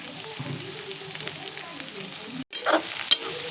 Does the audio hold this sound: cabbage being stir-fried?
yes